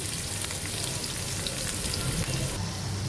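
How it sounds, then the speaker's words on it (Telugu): Paneer frying gently in oil on a low flame, a steady, soft sizzle and crackle that runs evenly throughout without any talking. "ఇప్పుడైతే ఈ పన్నీర్ని కొంచెం ఫ్రై చేసుకుందాము."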